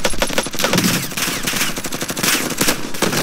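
Rapid automatic gunfire from a Warzone Season 2 match, dense and loud with overlapping bursts and shots cracking continuously throughout, no talking heard.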